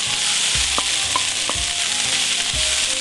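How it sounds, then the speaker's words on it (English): Mushrooms sautéing in a pan over vegetables already cooking for several minutes, a loud close, constant sizzle with low thumps and a few clinks of utensils stirring. "what will happen with the mushrooms when you're sauteing them"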